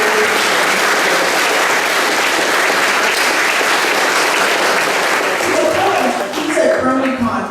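Crowd applause at a GalaCon 2014 convention panel, loud and dense clapping that holds steady throughout, with a few voices rising as it tapers near the end.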